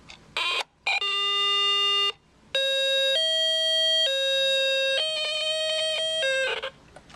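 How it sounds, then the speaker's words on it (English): A Quartz M-100 LIN DX wall clock with an 80s Swatch look plays its hourly electronic chime: a loud, clear melody of beeping tones with a few short pauses, no voices. "it does play sounds when it hits 0 o'clock every hour"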